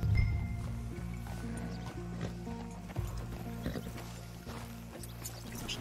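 Horses at a stable in Red Dead Redemption 2, with soft hooves clip-clopping and shuffling faintly under quiet game ambience and background music.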